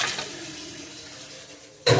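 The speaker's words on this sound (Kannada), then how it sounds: "ಸ್ವಲ್ಪ ನೀರು ಹಾಕ್ತೀನಿ ಕುಕ್ಕರಿಗಾಗಿ" Water is poured into a pressure cooker of ridge gourd sambar, a soft, steady trickle splashing into the pot for nearly two seconds before a sudden louder clatter at the end.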